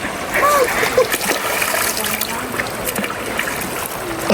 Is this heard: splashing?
yes